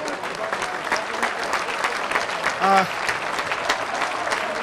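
Stadium crowd applauding a footballer at a benefit match, broad sustained clapping with a faint whistle-like tone rising briefly midway.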